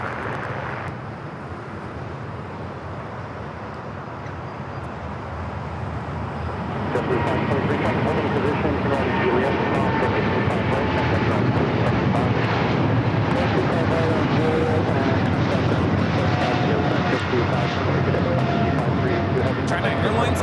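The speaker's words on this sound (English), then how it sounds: "China Airlines Cargo 5382 taking off to Miami, Florida on the 777 freighter." A China Airlines Cargo Boeing 777 freighter takes off from LAX, its jet engines swelling into a broad, steady roar after a quieter start, with wind buffeting the microphone.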